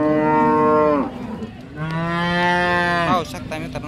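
A Jersey cow at the Sangola cattle market in Solapur district moos twice up close, a long loud low call followed after a short pause by a second drawn-out moo, with no talk over it.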